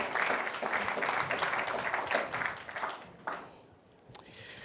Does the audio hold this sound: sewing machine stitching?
no